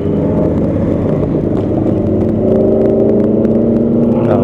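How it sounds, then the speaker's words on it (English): A car driving ahead on the road, heard from a 2020 Honda Africa Twin motorcycle, a steady loud engine drone with rising whine under wind rush throughout. "Listen to this car in front of me."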